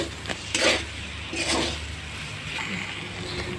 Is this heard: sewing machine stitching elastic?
no